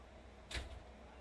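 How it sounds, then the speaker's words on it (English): MBTA commuter train doors close in Train Sim World 5 with a single soft thump and a brief hiss midway, heard faintly against a quiet cab hum. "Alright, let's close the doors now."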